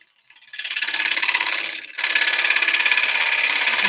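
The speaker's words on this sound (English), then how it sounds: "Half-inch cuts coming off with a bowl gouge" A wood lathe hums steadily at about 400 rpm while a bowl gouge takes half-inch cuts with a rapid, rattling chatter, briefly dipping before resuming loud and continuous.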